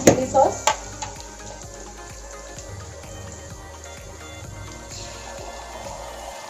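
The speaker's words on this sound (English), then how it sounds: "Now we will fry nicely. Vegetables are fried now." Baby corn and vegetables fry in a pan for Indian-style Manchurian street food, with a steady crackling sizzle, a few sharp clatters at the start and soft stirring under a faint voice.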